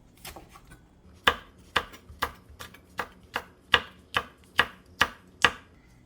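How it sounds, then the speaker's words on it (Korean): A knife chops rolled perilla leaves on a cutting board in about ten crisp, evenly spaced strokes, close and clear with no talking. "이렇게 돌돌 말아서 이 길이로 이렇게 썰으세요"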